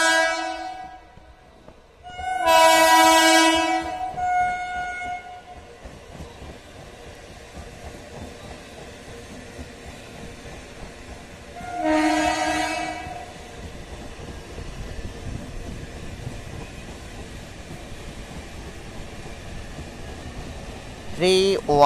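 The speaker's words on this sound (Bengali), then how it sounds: "31430 down Naihati Sealdah local Kakinara rail station 2 নম্বর প্ল্যাটফর্মে প্রবেশ করছে" The 31430 down Naihati–Sealdah suburban local pulls into platform 2 at Kankinara station, sounding two loud horn blasts several seconds apart over a continuous rumble of wheels and carriages, with a brief sharp squeal near the end.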